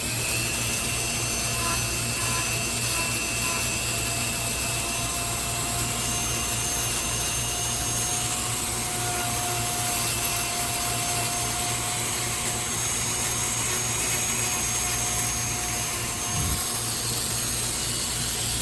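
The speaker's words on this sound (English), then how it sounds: "I'm going to use the bit to smooth those over a little bit more." Rotary power carving bit smoothing a wood spirit carving in wood, a loud steady whine with a rough grinding rasp that runs unbroken for the whole stretch.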